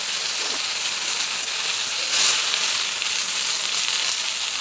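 Washed gongura leaves dropped into hot oil give a loud, steady sizzle and hiss, with a brief surge of crackling as the leaves hit the pan, close up and with no voices.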